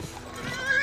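A digital horse in a game gives a short, moderately faint whinny with a high rising tail, alone.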